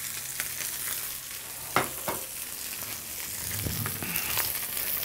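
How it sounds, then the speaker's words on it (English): Hapuka fish fillet fries in a hot pan, a steady close crackling sizzle with a few sharp pops and scrapes, no voices. "we just leave that just cooking that way in the pan, and it's just going to get nice and golden and crisp on the outside"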